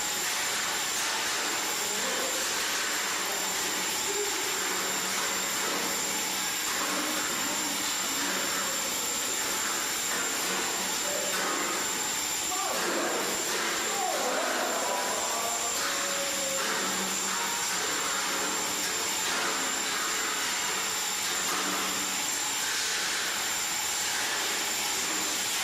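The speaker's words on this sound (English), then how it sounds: "Kind of noisy, but they're raising that transformer out of the pit." Loud, steady mechanical roar of heavy machinery raising a transformer out of a pit, with a constant high whine, droning continuously with no voices.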